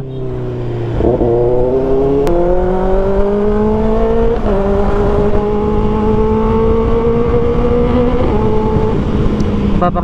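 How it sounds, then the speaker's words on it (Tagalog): Exhaust of a 2024 Kawasaki ZX6R sport bike fitted with Pirelli Super Corsa tyres screams loud and close, its pitch climbing through several gear shifts, each marked by a brief dip before the engine rises again. "Ganda ng tunog talaga ng exhaust niya."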